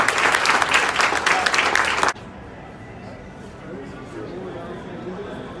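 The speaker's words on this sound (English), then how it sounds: "let's give them a round of applause" An audience bursts into a loud round of applause that cuts off abruptly after about two seconds, leaving a quieter room murmur of crowd chatter and movement.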